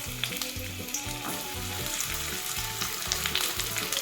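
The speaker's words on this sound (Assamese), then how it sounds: "কেৰাহী এটাত এয়া মিঠাতেল অলপ গৰম কৰি লৈছো। এয়া পটল কেইটা তেলখিনি দি ললো।" Pointed gourd sizzles steadily in hot mustard oil in a wok, with a loud, even frying hiss and regular rhythmic stirring scrapes running throughout, close up and with no voices.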